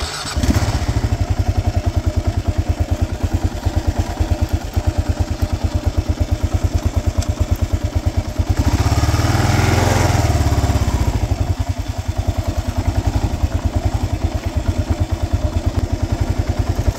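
A dirt bike engine runs close by with a rapid, steady chugging pulse, swelling into a louder rev for a few seconds midway before settling back to a throbbing idle.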